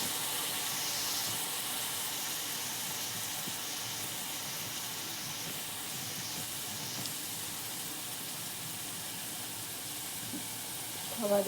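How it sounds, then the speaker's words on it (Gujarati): Pitha batter frying in a pan of hot oil, giving a steady, even sizzling hiss that holds close and constant, with a few small crackles near the end. "થોડી વાર આપણે તેલમાં એમ જ ફ્રાય થવા દેવાનું છે."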